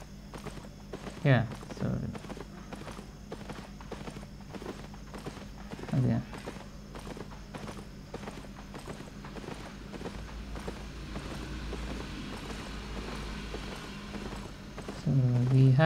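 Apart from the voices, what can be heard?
horse hooves clip-clopping in video game Albion Online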